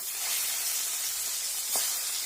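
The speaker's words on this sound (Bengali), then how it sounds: "মাছের তেল ভেজে নেবো" Fish fat frying in mustard oil in a wok, giving a steady close sizzle and hiss throughout with a brief louder spit near the end.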